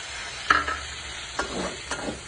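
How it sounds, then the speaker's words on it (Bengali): Garlic and onion fry in oil for a shrimp bhorta, with three sharp spatula scrapes against the pan over a low, close sizzle and no speech. "এবার সেই তেলে রসুন আর পেঁয়াজ ভেজে নিতে হবে।"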